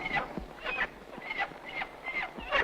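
Hens clucking nearby in a run of about six short, nasal, repeated calls at a steady rhythm over low background noise, with no talking.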